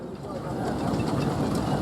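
A miniature Burrell steam traction engine with a canopy rumbles along at a steam rally, a steady mechanical churn heard under a commentator's voice.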